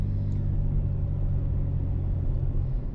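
A 2001 Jeep Cherokee XJ engine drones from inside the cabin while driving, a steady low rumble with road noise holding an even level throughout, no voices.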